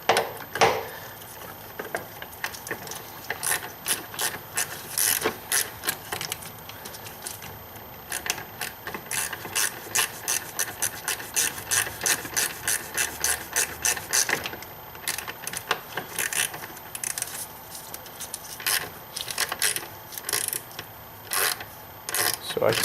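Ratchet clicking as it turns a swivel E-Torx socket on the oil filter housing of a BMW N52 six-cylinder engine, long runs of rapid close ticks broken by brief pauses, steady and moderately loud.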